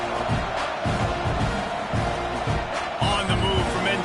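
Stadium crowd at a college football game between Texas A&M and Oklahoma, a steady broad roar of many voices filling the whole stretch, with rhythmic low thumps and some brighter swells near the end.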